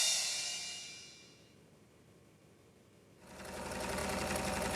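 A home sewing machine stitches in fast continuous whirring runs, loud at the start, pausing to a quiet lull, then resuming strongly.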